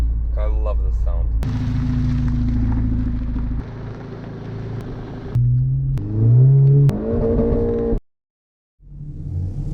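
Tuned VW Golf GTI, stage 2.2 with 300-plus horsepower, roars loud and close in a sustained rev, then climbs in pitch through a second rev before cutting to brief silence. Voices are heard at the start.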